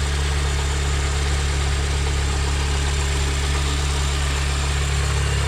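A Mini Cooper R50 engine idles steadily after an oil service, a constant low rumble with a smooth, even hum and no voices over it.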